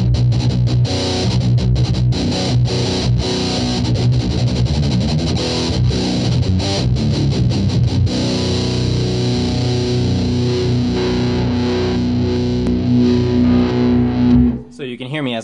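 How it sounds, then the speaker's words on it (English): Electric guitar through an Electro Harmonix Nano PocketMetalMuff distortion pedal, heavily saturated riffs and sustained chords played loud and dense, stopping abruptly near the end. "The PocketMetalMuff from Electro Harmonix, the Nano series."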